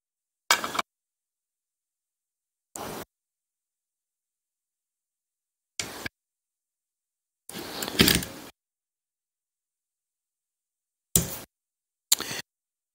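Metal rails of a Hatsan BTS 12 airgun slide into their slots during reassembly, heard as six short, close scraping clicks separated by silence, with one longer rattling slide in the middle.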